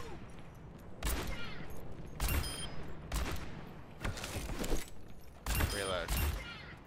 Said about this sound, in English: We just keep shooting them.